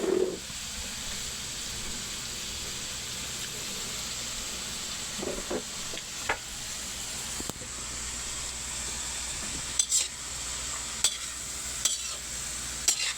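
Meat being stir-fried in a pan for pancit guisado gives a constant soft sizzle and hiss, with occasional clinks and scrapes of a utensil stirring.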